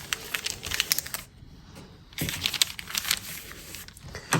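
Foundation paper piecing paper is creased and folded along a line, giving close, crisp crinkling and rustling in short bursts with a brief quiet gap in the middle.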